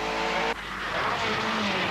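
Triumph TR7 rally car driven on the 1980 Manx Rally, engine screaming near and loud, then cutting abruptly and picking back up as it accelerates away.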